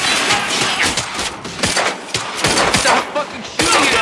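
Loud bursts of gunfire from Quantum Break, with irregular automatic rattles and sharp single cracks across a chaotic firefight.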